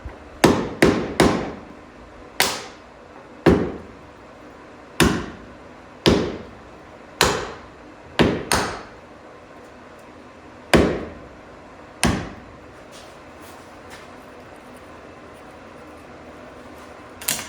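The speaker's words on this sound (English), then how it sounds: "Just take an edge and kick it just on the back side of that, and it comes right out." Drip rail molding is knocked off a 1970 Buick GS350 coupe during bodywork. About a dozen sharp, close metallic strikes come at irregular intervals, each ringing briefly before fading, with quiet gaps between them.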